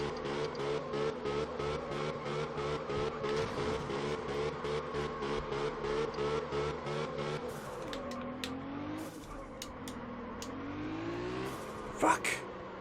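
A drifting car in the racing game Absolute Drift, its engine droning in rapid pulsing revs, then swooping up and down in pitch as the car slides, with sharp tire squeals near the end.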